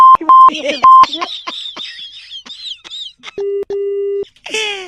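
Several short electronic beeps at a steady pitch, then a lower sustained tone broken by brief gaps, with chirpy voice-like sounds in between.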